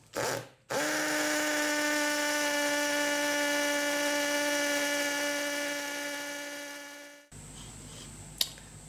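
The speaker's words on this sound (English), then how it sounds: "So what I'll do is I'll drill all of the holes to bolt the numbers on." A power drill bores a hole into sandstone for brass thread inserts, giving a sustained, steady whine of about six seconds close to the microphone. The drill then stops, followed by a short pause and a single click.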